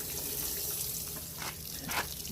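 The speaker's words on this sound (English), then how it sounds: "You see how the irrigation ring is running water through there." Water pours through the irrigation ring of a Yardbird chicken plucker during assembly, a steady close broadband splashing hiss with slight surges, and no voices.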